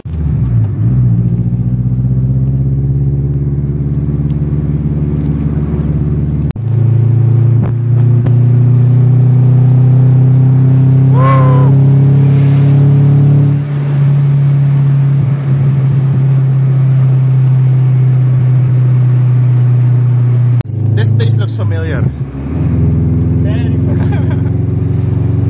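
Honda Integra cars idle and rev nearby, a steady low engine rumble rising and falling through several throttle swells, with people talking over it.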